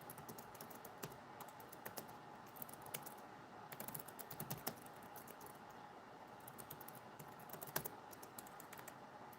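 Quiet, rapid tapping of keys on a computer keyboard, irregular bursts of clicks with short pauses, close by and alone.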